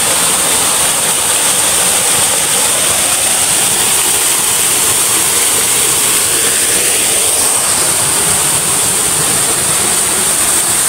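Loud, unbroken roar of a waterfall on a rural property for sale, close and dense with rushing water masking everything else; no speech.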